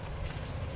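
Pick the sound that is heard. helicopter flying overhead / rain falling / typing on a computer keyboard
rain falling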